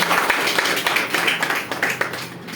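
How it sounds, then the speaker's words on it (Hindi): Audience applause for a speaker invited onstage at a public speaking event, a dense, steady round of clapping from many hands, close and continuous for a few seconds with no talk over it. "सर के लिए एक बार जोरदार तालियां।"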